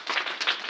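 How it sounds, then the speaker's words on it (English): Short burst of clapping from a school assembly audience after a classmates' debate competition, several hands beating in a loose, uneven rhythm at close range with no talk over it. "I want you to give them a round of applause."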